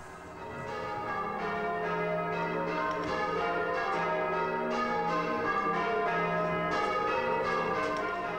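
Church bells ringing at St George's, Easton, a full peal of overlapping strikes in an irregular rhythm, resonant and fairly loud, heard from outside with no voices.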